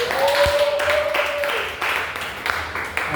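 A church congregation welcomes Pastor Bernard with applause and cheers, a continuous wash of clapping with a rising voice over it, fairly close and moderately loud.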